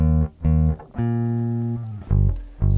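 Clean, unaffected bass guitar tone with a GR Bass Pure Drive pedal bypassed: several plucked notes ringing out alone, each with a strong low fundamental, sustaining smoothly with no distortion.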